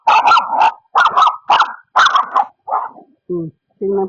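A dog barks angrily at a bigger dog on a walk, giving a close, loud series of sharp, growly barks in irregular bursts that end in lower, shorter woofs.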